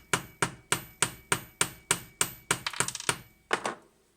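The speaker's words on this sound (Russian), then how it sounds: "Далее устанавливаем шайбочку упорную и просто развальцовываем молоточком" A small hammer peens a thrust washer during carburetor repair in a quick, even rhythm, about a dozen sharp metal strikes with a brief flurry of lighter taps near the end.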